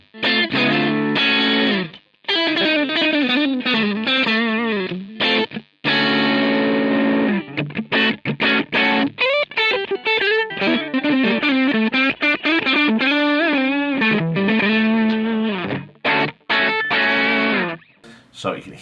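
An electric guitar with a split pickup setting plays through the built-in cabinet simulation of a Line 6 Helix. Loud, distorted riffs and bends come in bursts with short pauses, close up.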